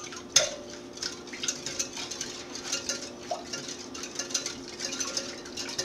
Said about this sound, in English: We're going to whisk this part together.